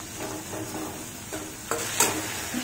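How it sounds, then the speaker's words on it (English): Fresh tomato cooks in a pan for a Jain bamboo shoot noodle dish made without onion or garlic, giving a steady close sizzle with a few soft stirring scrapes and a sharper clatter near the end. "Let this tomato get cooked nicely"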